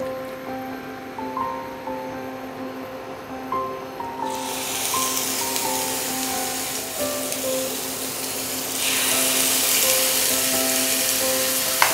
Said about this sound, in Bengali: এই ম্যারিনেট করা চিকেনটা আমি এর মধ্যে দিয়ে দেব।